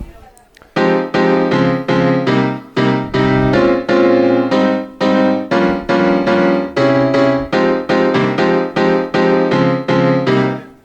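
Piano chords from a software instrument played in a choppy, rhythmic club pattern, short repeated stabs with brief gaps between them, loud and close with no other sounds.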